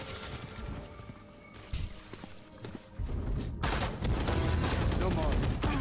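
Gunfire from a shotgun in the tactical shooter Valorant, loud blasts bursting over dense in-game action that grows busier and louder toward the end, with a voice talking underneath.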